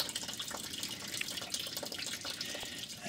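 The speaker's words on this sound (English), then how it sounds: "Just pull it out a little bit, just let the coolant drain." Coolant drains from a 2.0 TDI Audi, VW, Seat or Skoda engine into a catch tray during water pump removal, a steady, fairly quiet trickle and splash of liquid.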